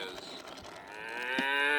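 A See 'n Say toy plays its recorded cow moo, one drawn-out, rising bovine call from a small speaker, close and fairly quiet with nothing else over it.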